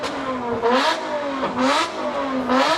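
A Lotus sports car engine revving repeatedly, rising and falling in three strong throaty surges, loud and close at a car show, with no talking.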